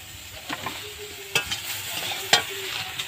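Ginger and slit green chilies frying in a pan, a soft steady sizzle broken by a few sharp scraping clinks of a spoon stirring. It is close by and fairly quiet.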